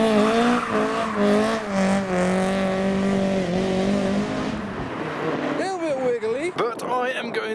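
A Ford Escort Mark II pulls away from a classic car show, its engine droning steadily and then fading as it leaves, with people talking nearby and a revving surge near the end.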